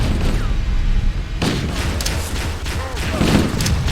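Covering gunfire in the video game Halo rattles as a dense, continuous barrage with heavy booms, loud and close, starting abruptly partway through and mixed with game sound effects.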